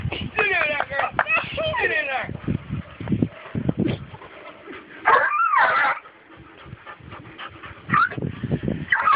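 A coon dog in training whimpers and yips in short high whines, close by, broken up by thumps and a person talking over it.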